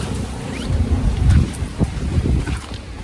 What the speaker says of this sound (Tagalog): Napakalakas ng hangin dito at napakalamig.